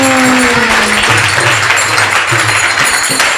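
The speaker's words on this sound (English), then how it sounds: "big round of short applause for Garuda Prabhu." Short burst of audience applause at a spiritual talk, a dense crowd of clapping hands filling the space, with a few tonal hums and taps underneath.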